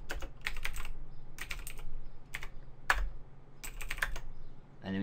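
Close, quick bursts of typing on a computer keyboard entering a command, clusters of key clicks separated by short pauses over a low steady hum.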